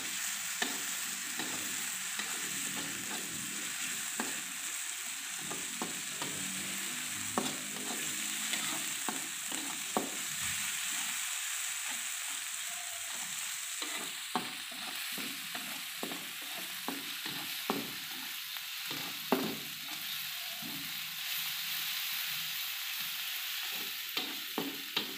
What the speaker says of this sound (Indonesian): Aduk rata. Sampai aromanya harum.